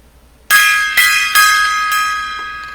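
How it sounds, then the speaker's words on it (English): Three resonant gong strikes ring out in a ceremonial salute, each loud and close with a long shimmering sustain that overlaps the next, spaced about half a second apart with no talk. "3 gong salute to Sarnia Rocks and Michelle."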